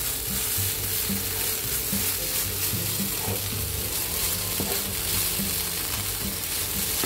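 Rice vermicelli stir-fried in a pan while cooking lalampa, a steady loud sizzle of frying with stirring scrapes running throughout, no voices.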